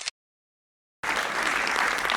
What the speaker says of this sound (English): A round of applause for him, ladies and gentlemen.